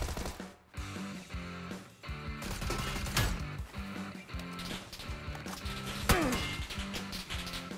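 Gunshots in a shooter game ring out as a series of sharp, close cracks in irregular bursts over busy game sound and music, with one especially loud shot near the end.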